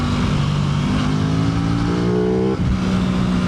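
An Aprilia RS 660 motorcycle engine revs as the throttle opens, a loud continuous close drone whose pitch climbs, then drops abruptly as the throttle closes, heard over steady road and wind noise.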